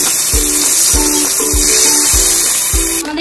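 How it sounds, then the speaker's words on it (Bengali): Fish fry in hot oil in a pan, ready to be turned. A constant loud hiss sits close, with evenly spaced low thumps pulsing beneath it. "কি ভাজা হয়ে গেছে, এবার মাছটা উল্টে নেব"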